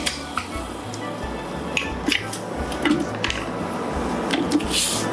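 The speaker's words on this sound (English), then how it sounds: "so I'm going to start adding my flour mixture" Cake batter of butter, sugar and egg being mixed as flour is added, giving soft wet squishing and light clicking of a utensil against the bowl in short irregular bursts, close up with no talking.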